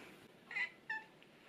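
A pet cat meows twice indoors during a makeup session, two short soft mews about a third of a second apart, faint against quiet room noise.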